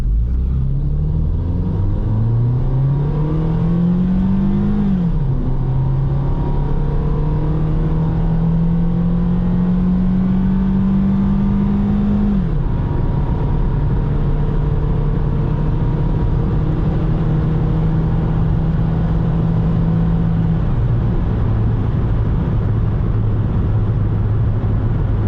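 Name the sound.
Toyota Yaris accelerating hard from standstill, 0 to 60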